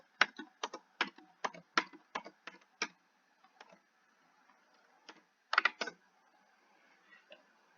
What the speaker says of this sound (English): I decided to make it possible for you to just type it in directly